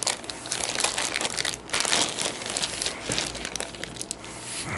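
Crinkly plastic packaging holding board game pieces is torn open and crumpled in a continuous, close, loud rustle with brief dips, no talk over it.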